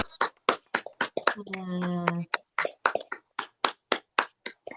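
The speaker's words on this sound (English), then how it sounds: "Can we all like unmute and clap?" Scattered, uneven clapping from a small group unmuted on a video call at an awards presentation, sharp individual claps over about five seconds, with a brief drawn-out voice partway through.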